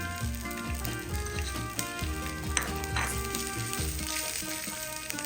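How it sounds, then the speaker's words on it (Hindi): Boiled corn goes into a pan of sizzling garlic rice for lemon coriander rice, with steady frying sizzle and rhythmic spatula scraping and stirring against the pan, over background music and no talking. "Added some boiled corn, nice pop of colour देगा हमारे लेमन कोरिएंडर राइस को।"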